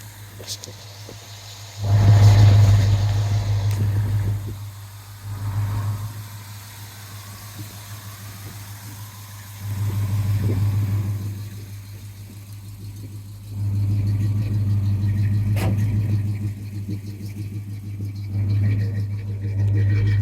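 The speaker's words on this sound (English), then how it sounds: "Got long tube headers that match H-pipe and blue exhaust, quad tips." A 1970 Pontiac GTO convertible with a 400 engine, long tube headers, H-pipe and quad-tip exhaust idles with a deep steady rumble, swelling in several short revs and surges before settling back to idle, close and loud.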